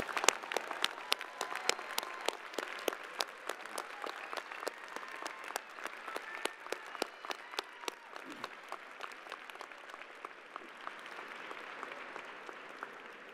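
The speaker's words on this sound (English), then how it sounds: "give your parents, family, friends, and others a thunderous round of applause" Applause at the UWM 2022 Fall Commencement Ceremony for graduates' families and supporters, a thinning spatter of distinct individual claps over a soft crowd bed, fairly quiet and distant, continuing for over thirteen seconds.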